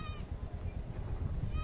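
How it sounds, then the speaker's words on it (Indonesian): Goats on a free-range goat farm give a couple of short bleats, one at the start and one at the end, over a steady low rumble of farmyard background. "Kambingnya ngantri full umbaran nih, teman-teman"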